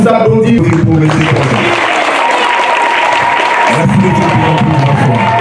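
Audience applause at a graduation ceremony, a steady wash of clapping filling the hall with crowd noise and faint cheering, loud and continuous throughout.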